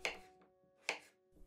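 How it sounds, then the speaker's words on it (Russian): A knife cuts pumpkin into cubes on a board in two sharp, separate chops spaced under a second apart, close and crisp, with a softer knock trailing at the end. "3 килограмма тыквы нарезаю кубиком."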